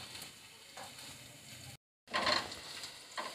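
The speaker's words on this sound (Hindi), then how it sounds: "ये 1 टीस्पून सफ़ेद ज़ीरे का है जो कि मैं इसी में शामिल कर दूंगी और इसे भी इसके साथ कुछ देर पकाऊंगी" White cumin seeds and garlic frying in a pan give a soft, steady sizzle with faint crackles, cut by a brief silent gap, then a louder burst of spattering.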